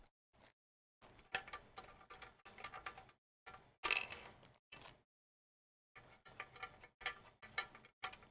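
A 3D printer running nearby, giving off close, fairly quiet bursts of mechanical ticking and whirring motor movement that start and stop in irregular runs separated by short pauses.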